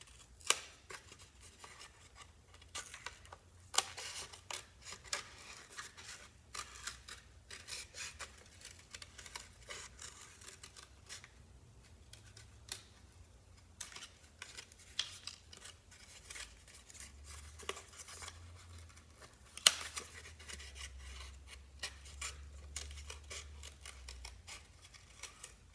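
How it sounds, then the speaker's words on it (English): Scissors snip through paper, cutting out a traced circle for a pirate dagger craft; a close, steady run of crisp snips and rustles continues with no talking. "grab your scissors and cut out that circle you just traced."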